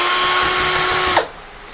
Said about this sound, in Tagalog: Mas madali kapag may drill.